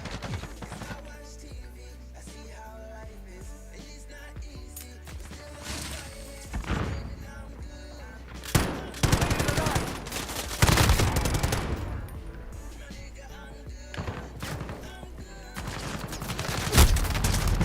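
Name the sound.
gunfire in a video game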